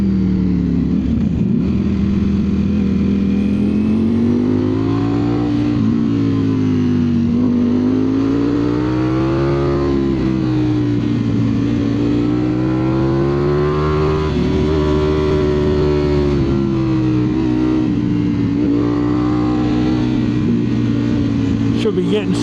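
A Ducati Streetfighter V4S motorcycle ridden on unmarked mountain roads, its loud engine rising and falling steadily through the gears with strong rumbling tone and wind noise, continuous and close.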